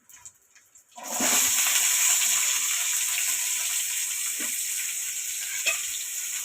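Onions and cashews hit hot oil in a pan for paneer masala curry. A sudden loud sizzle bursts in after a brief quiet start and then holds as a steady close hiss, with occasional stirring knocks.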